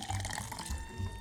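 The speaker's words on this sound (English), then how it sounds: "you're gonna want a highball flask filled with ice. Pour that in." A cocktail is poured over ice into a highball glass while making Halloween party drinks, a close, gurgling liquid splash with light clinking of ice, short and steady throughout.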